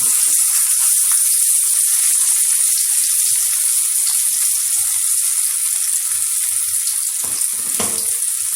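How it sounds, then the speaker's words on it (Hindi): Kababs fry on a hot tawa griddle, a loud, steady hiss of sizzling oil close up, with a few faint knocks toward the end. "तवा गर्म हो गया है। अब एक एक कबाब हम इसमें फ्राई करेंगे।"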